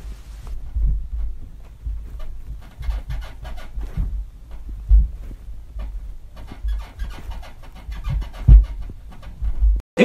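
Neighbor's bed shaking the ceiling of the apartment one floor above: low, muffled thumps and rumbles in an uneven rhythm heard through the ceiling, with a few heavier knocks standing out.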